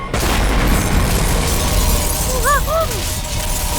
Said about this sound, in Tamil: ஒரு பாமாவது வெடிக்கும் தான்